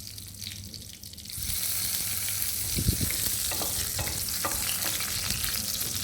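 Cashews, cloves and cardamom fry in a pan for sweet pulao, a loud steady sizzle that swells after a quiet opening second, with occasional stirring scrapes and clinks close by.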